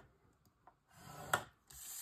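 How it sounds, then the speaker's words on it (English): A scoreboard tool scoring a line into paper for a Stamperia craft panel, a faint soft rub followed by a short scratchy drag and a brief scrape. "you're going to score it at 1/2 inch"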